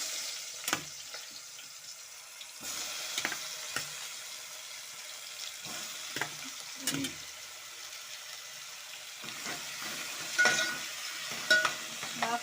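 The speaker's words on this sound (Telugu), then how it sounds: "బాగా ఫ్రై అవ్వనియాలి మష్రూమ్స్ని." Mushrooms frying in a pan for mushroom curry, a soft steady sizzle broken by repeated scraping strokes of a spoon stirring them, close and fairly quiet.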